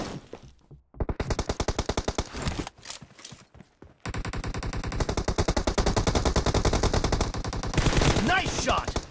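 Rapid automatic gunfire from PUBG Mobile played on an Oppo F5 Youth: loud, close bursts of evenly spaced shots, with short pauses between volleys and a long sustained stretch of firing.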